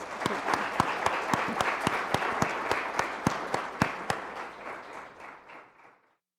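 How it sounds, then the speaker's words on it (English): Audience applause at a poetry symposium talk, steady clapping with sharp individual claps standing out, holding for several seconds and then tapering off to silence. "If everyone will join me in giving her one more round of applause."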